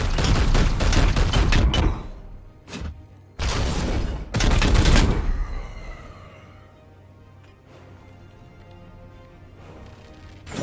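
Loud bursts of weapon fire in the video game Chaos Gate: Daemonhunters, with a rapid volley followed by several separate heavy blasts, then a ringing, fading tail and low background hum.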